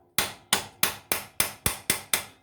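A hammer strikes a nut on the swingarm of a Yamaha YBR motorcycle, eight sharp metallic blows at an even, quick rhythm, close and loud, each ringing briefly before the next.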